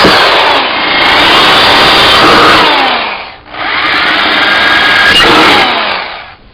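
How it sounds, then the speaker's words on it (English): A power drill boring holes through a metal can to make a charcoal chimney starter: two loud, close, whining drilling bursts separated by a brief pause, each rising and then cutting off. "we'll drill holes through the can"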